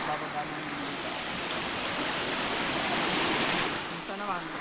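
A waterfall pours in a steady, broad rushing wash, close and continuous, while voices talk over it at the start and end.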